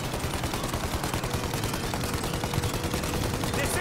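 Dense, continuous automatic gunfire during a shootout against an escaping plane in Mafia: Definitive Edition, a steady rattling barrage that runs unbroken throughout.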